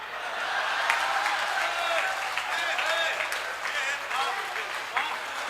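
An audience breaks into sustained applause at a comedy talk, a dense even patter of many hands clapping at moderate distance, holding steady for several seconds with a few sharper claps standing out.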